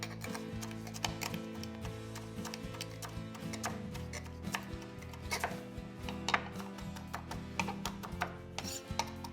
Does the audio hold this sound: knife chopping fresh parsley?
yes